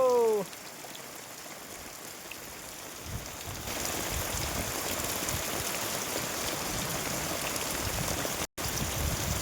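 Heavy rain pours down in a steady, dense wash that grows louder after the first few seconds and holds constant, with a brief vocal sound at the very start.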